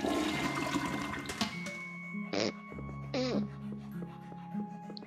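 A toilet flushes in the video game Luigi's Mansion 3, a short rushing swirl of water that fades quickly, followed by brief game sound effects over a low ambient hum.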